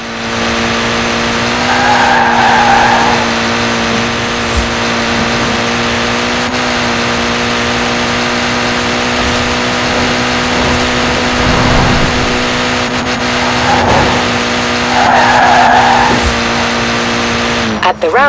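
A Mini Cooper S driven in a racing game buzzes along at a steady engine drone, with bursts of tire squeal and skidding as it corners, while someone talks over it.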